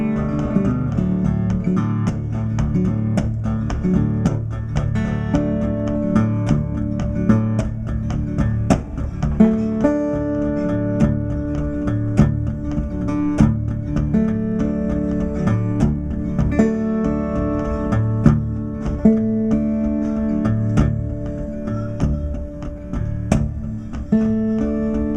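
Live blues guitar at Meneer Frits in Eindhoven imitates a big train rumbling in and its engineer ringing the bell, with steady low chugging rhythm under bright ringing picked notes, played alone without talk.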